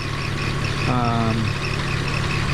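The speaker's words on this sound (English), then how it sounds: "the pulleys are being noisy now" A 2001 BMW E46 idles with a steady low engine drone while its pulleys whine, a short rising-falling whir surfacing midway through and fading after about half a second.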